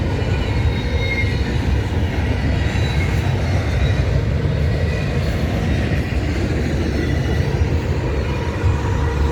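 A CP freight train rolls past in Maple Creek, Saskatchewan, a loud, continuous rumble of heavy railcars with steady wheel noise and faint squeals, close by and unbroken throughout.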